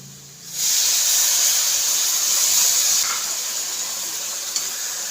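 Coconut milk poured into a hot pan of well-roasted spice powders for a fried chicken biryani masala, bursting into a loud, sustained steamy hiss and sizzle that settles slightly but keeps going throughout, with no talking.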